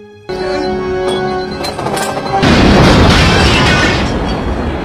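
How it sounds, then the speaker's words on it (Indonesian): A time bomb going off in the Robocop film: a loud, close explosion bursts in after a tense musical buildup, then rumbles on as a sustained roar that slowly fades. "Clarence lalu mengaktifkan bom waktu dan meninggalkan rumah Bob."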